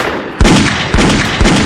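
Three loud, evenly spaced gunshots fired from a pistol at men by a car at night in an animated cartoon, each a sharp crack followed by a short ring-out.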